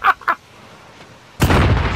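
A grenade blast in a Modern Warfare 2v2 Gunfight match bursts in loud and broad, then rumbles on after two short sharp pops at the start of the game audio.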